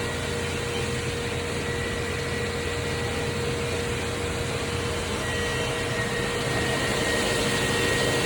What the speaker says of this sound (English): Got the fan on over here and the exhaust fan on over there